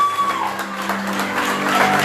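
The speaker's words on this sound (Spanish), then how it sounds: "Un aplauso al Señor esta tarde." Congregation applauding during an evening church service, a steady patter of many hands clapping at moderate loudness, filling the room for a couple of seconds.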